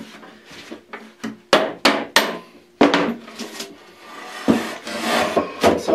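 Sharp hammer blows knock clamps loose from a glued laminated wood board, about a dozen close, loud wooden knocks in an irregular rhythm, mixed with scraping and rubbing of the clamps.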